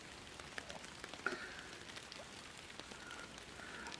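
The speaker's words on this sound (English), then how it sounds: "it looks like we've still got rain" Steady rain in the Fishing Planet game at Quanchkin Lake, Louisiana, a continuous soft patter and hiss with a few brief louder drops, heard alone without voices.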